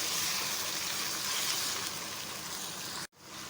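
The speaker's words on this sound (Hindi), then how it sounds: "एक 2 मिनट के लिए भूनें इसको।" Whole spices and ginger garlic paste fry in a pan for aloo pulao, giving a steady, close sizzle that holds loud and even before cutting off abruptly near the end.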